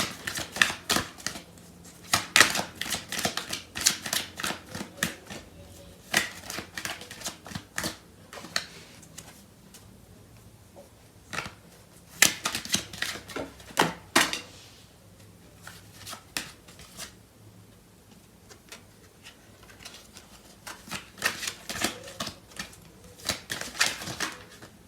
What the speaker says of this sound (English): I'm going to clarify these cards.